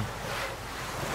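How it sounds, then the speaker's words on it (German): Steady rushing water in Gothic 2, a broad continuous roar like surf or a torrent, loud and unbroken across the moment with no voices. "Das Wasser ist so laut."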